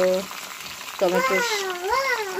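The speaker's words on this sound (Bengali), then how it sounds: "এখন এটা তেলে ভাজবো" Thin eggplant slices fry in hot oil with a steady, hissing sizzle, while a voice talks over it through most of the stretch.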